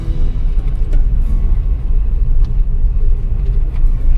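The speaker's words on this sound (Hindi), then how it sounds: "पहले लगाते हैं गाड़ी को" A car rolls into a government parking lot at a temple in Kangra, its engine producing a steady low rumble throughout as it is driven in.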